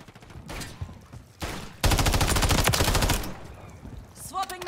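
Automatic gunfire rattles in Call of Duty Modern Warfare 3, a dense sustained burst of rapid shots after a couple of shorter bursts, loud and up close, with game voice callouts around it.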